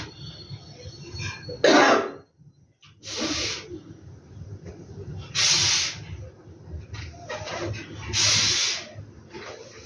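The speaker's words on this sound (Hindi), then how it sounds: "जैसे मैंने खांसी की" A sharp cough breaks out among several loud breathy hissing bursts, spaced a couple of seconds apart, close to the listener.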